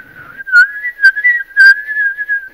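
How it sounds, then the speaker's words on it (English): An ancient Peruvian ceramic whistling jug is blown to give a sustained, eerie, steady whistle. The tone wavers slightly and is broken by a few short breathy bursts, loud and close, with no other sound. "when you blow in the backside, it creates an eerie whistling sound"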